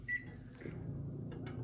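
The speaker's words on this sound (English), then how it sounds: "I got a microwave, Drew." Microwave oven humming steadily with a live clam inside, a low continuous drone with a brief high beep-like tone at the start and a couple of faint clicks near the end.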